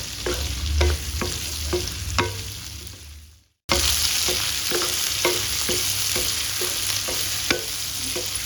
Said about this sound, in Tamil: இப்போ போட்டுட்டு நம்ம நல்லா வதக்கணும்.